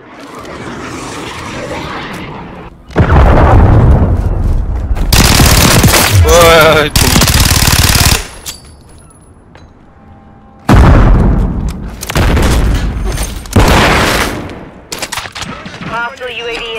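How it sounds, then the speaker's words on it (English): Cruise missile strike explosions in Call of Duty Modern Warfare 3 multiplayer, heard as loud, close bursts of booming blasts and rapid gunfire that come in two heavy waves with quieter gaps between them, while voices sound over the chaos. "Friendly cruise missile deployed."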